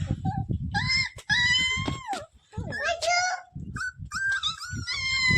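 A small puppy whimpers and whines in drawn-out, rising and falling cries close by, while a child and adults chatter over and between the whines.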